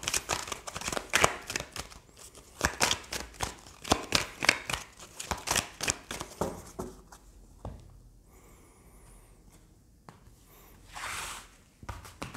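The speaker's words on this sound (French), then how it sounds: "on va tirer d'autres cartes avec les tarots" Tarot cards are shuffled and drawn by hand: rapid papery clicks and rustles come in bunched bursts, then quieter, sparser handling.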